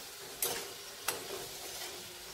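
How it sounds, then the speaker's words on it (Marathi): Koftas fry in a little oil in a pan, a soft, even sizzle with two brief sharp crackling bursts standing out near the start. "थोड्या तेलामध्ये छान असं तळले जातात"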